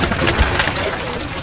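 A pigeon coos softly while held in hand on a rooftop among other pigeons, with a short low burble over rustling handling noise.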